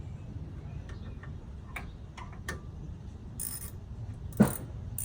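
Socket wrench ratcheting on a bolt during a muddy brake repair, a quiet run of soft ticking clicks over low background rumble, with one sharper knock near the end.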